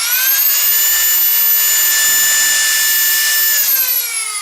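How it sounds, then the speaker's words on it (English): Dremel rotary tool spinning at 35,000 rpm, a loud, steady high-pitched whine holding level for several seconds before the pitch drops slightly near the end, with no voices. "Here's the Dremel."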